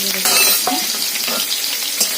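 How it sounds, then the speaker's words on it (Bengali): Shrimp fry in a hot kadai with a loud, bright sizzle, broken by stirring clatter and scraping of a utensil against the pan, close and continuous with no talk. "এগুলোকে একবার ভেজে রেখেছিলাম তো আর একবার ভাবলাম না একবার ভালো করে ভেজে নিই"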